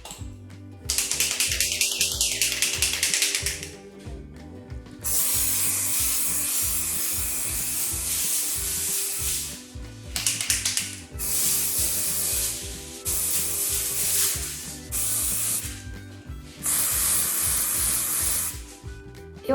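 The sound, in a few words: spray can of white flocking sprayed on chocolate entremets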